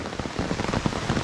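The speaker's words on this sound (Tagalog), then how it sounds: "Lumalakas ang ulan." Heavy rain pours down on a forest path, a dense, even hiss of drops striking surfaces that fills the whole short moment without any voices.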